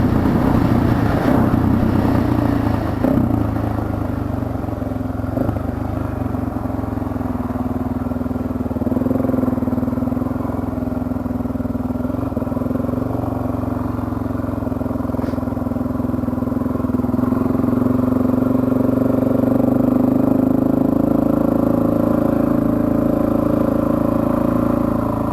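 A motorcycle is ridden with a steady engine drone and wind rush throughout, the pitch rising and falling gently as the rider changes speed.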